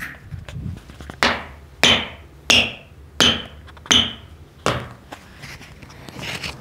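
Sharp knocks ring out as someone taps on a Specs Metasala Nativ 5 futsal shoe with a Lightspeed outsole, about six distinct hard raps spaced under a second apart, close and alone.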